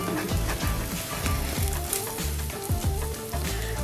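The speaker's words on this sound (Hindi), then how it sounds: "इसको हम अच्छे से फ्राई करेंगे" Onions fry with salt and turmeric in a hot pan, giving a dense, steady sizzle that continues throughout with faint stirring.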